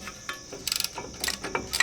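A hand ratchet clicks in quick bursts while brake caliper bolts on a 2001 Ford F-150 are run down during a rotor and pad job. The close, crisp metallic clicks come in several short rapid runs.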